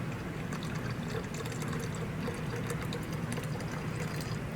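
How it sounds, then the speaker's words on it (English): Boiling-hot water poured steadily into a pitcher holding two or three cups of cold water, a continuous close splashing rush that runs evenly throughout with no talking. "I've put about 2 or 3 cups of cold water that we're gonna pour the hot water into"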